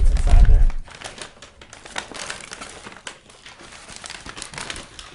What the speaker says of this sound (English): empty bags of ice, the plastic bag for the ice